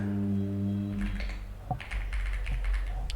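Python code is typed on a computer keyboard in quick bursts of light clicking keystrokes, with a low steady hum underneath at first and no one talking.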